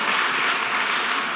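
Polite applause from a town hall audience, a short, dense and even wash of many hands clapping at once, close and fairly loud with no voices over it.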